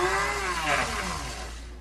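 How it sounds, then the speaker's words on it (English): An electric coffee grinder whirs steadily as it grinds spices for keto bread, a loud, close motor whine that holds for under two seconds and fades slightly toward the end. "Grind it for just a little bit."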